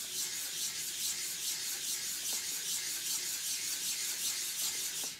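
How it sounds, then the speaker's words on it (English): A sharpening stone is flattened with water under an Atoma diamond plate, producing a steady close-up wet rasping and rubbing that continues without a break and with no talking. "just with water on the stone you would just work it down a bit. This will remove the imperfections in the surface."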